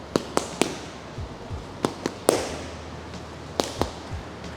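Punches snap against small handheld training target pads in a fight gym, sharp irregular smacks in quick jab-cross pairs, close and distinct over faint room noise, with no talking.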